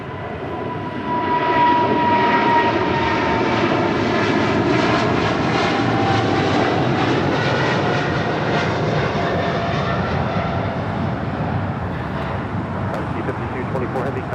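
A China Airlines Cargo jet passes at LAX with a loud, sustained engine roar that swells and holds steady for the whole stretch, with a broad rushing whine and no voices.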